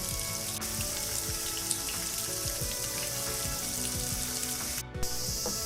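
Steady rain at a temple in Otsu, Japan, pattering and sizzling on hard surfaces, a dense continuous hiss with scattered drips, close by and uninterrupted.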